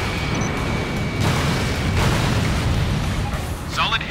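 A rumbling explosion from the video game Ace Combat Infinity strikes a building, a broad low roar sustained for several seconds with a brighter crackle near the end, loud and continuous.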